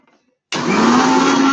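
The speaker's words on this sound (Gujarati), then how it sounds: "જો હવે આપણે એને મિક્સરમાં દળી લઈશું." A kitchen mixer grinder whirs into life grinding dried moringa leaves, starting abruptly after brief quiet and holding a loud, steady, high-pitched drone without talk.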